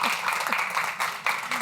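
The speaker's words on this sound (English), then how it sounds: "Just a huge round of applause to our Greenhouse participants." A conference audience gives a short burst of applause for program participants, a dense, even wash of clapping lasting under two seconds with voices mixed in.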